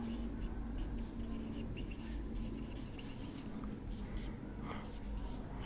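Marker or chalk scratching steadily across a board during a lecture on proteins, a continuous rough scraping texture under a low background hum.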